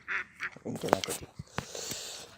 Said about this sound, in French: C'est joli canard.